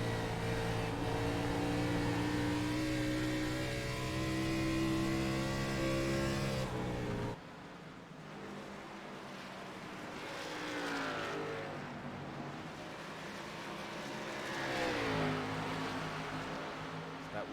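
Race cars at Dover roar loudly around the track, a sustained engine drone dropping off, then two more cars sweep past in distinct passes with rising and falling pitch.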